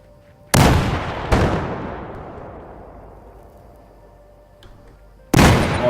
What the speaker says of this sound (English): Oh, it's a close nade. From way downtown.